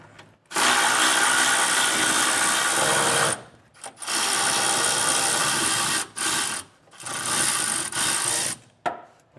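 Power tool driving out 13mm mounting bolts while a Curt EZr double-lock underbed gooseneck hitch is removed beneath a truck, heard as several loud sustained whirring runs broken by short pauses, close and with no talk.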